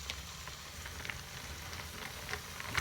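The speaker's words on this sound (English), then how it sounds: "And I'm actually gonna cook all this bacon" Bacon strips, two at a time, fry in a pan with a soft, steady sizzle, faint and close, dotted with small pops and spits of fat.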